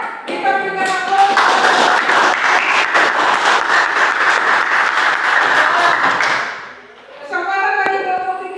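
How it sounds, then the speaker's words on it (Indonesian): A classroom group breaks into loud, sustained applause of many hands clapping together for several seconds, fading out before a voice resumes speaking. "Kita berikan aplaus."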